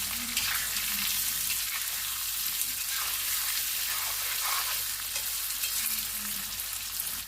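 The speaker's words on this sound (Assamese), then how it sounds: "অকণমান ফ্ৰাই কৰি ল'ম।" Boiled jackfruit pieces coated in turmeric and chili powder fry in a pan, giving a constant loud, dense sizzle with faint stirring underneath throughout.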